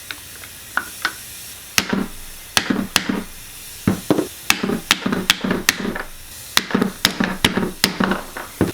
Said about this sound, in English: Rubber mallet, of course.